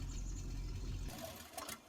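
A vehicle engine in Farming Simulator 19 hums low and steady at idle, then cuts out after about a second, leaving faint mechanical ticks and rattles.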